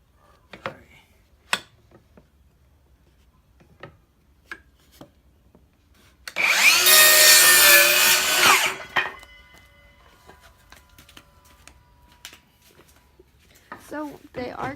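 A power tool cuts through a wooden shelf board in a single loud burst of about two seconds, preceded and followed by sparse knocks, handling sounds and brief speech.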